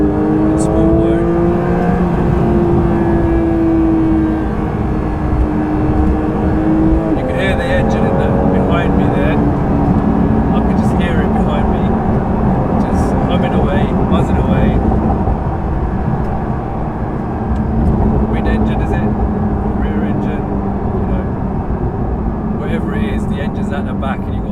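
A Porsche 992 GT3 in sport mode on an open road holds high revs. Its loud engine drones continuously in the car's cabin, rising and shifting in pitch, while someone talks over it.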